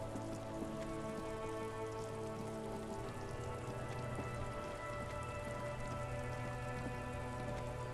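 Steady rain falls in the video game Disco Elysium, a dense, even patter that holds throughout, with faint sustained tones humming beneath it.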